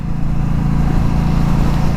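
An Indian Scout Sixty motorcycle engine runs steadily while riding, a loud, continuous low rumble with a dense, even drone and no pauses.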